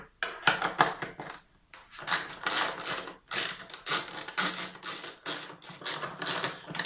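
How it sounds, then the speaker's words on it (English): Ratchet wrench with an 8mm socket and extension loosening rear fender bolts on a KTM Duke 790 motorcycle, heard as bursts of rapid, close clicking ratchet strokes separated by short pauses. "To remove the rear fender, we have to remove these four bolts. We're going to do that using the 8mm socket and extension."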